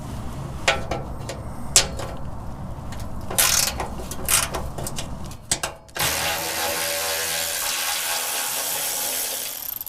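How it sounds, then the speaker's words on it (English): A ratchet wrench turns a 12 mm bolt on a vehicle's driver's side frame during a gas tank skid plate install, with bursts of clicking and scraping that give way to a steady broadband rush after six seconds. "The next fastener we're going to remove is this 12 millimeter bolt on the driver's side frame"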